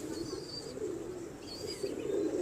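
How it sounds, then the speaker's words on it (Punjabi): A large pigeon coos softly in low, repeated murmuring phrases, fairly close but quiet, with faint chirps from other birds in the background. "ਬੜਾ ਵੱਡਾ ਕਬੂਤਰ ਹੈ।"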